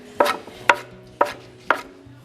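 A wooden scutching knife striking and scraping flax fibers against a scutching board, four evenly spaced sharp strokes about half a second apart, close and clear with no talking.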